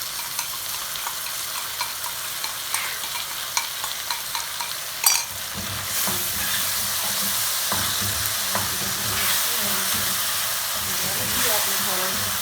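Vegetables tipped into a pan of macaroni with chicken sizzle loudly in hot oil, with scraping stirs and a sharp clatter partway through, after which the frying grows louder and denser; no one speaks.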